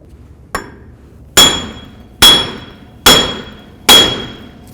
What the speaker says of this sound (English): when I smack this with a hammer to get this off